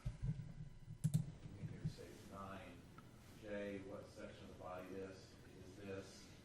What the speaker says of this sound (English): his attorney is typing, maybe he's typing something about his defense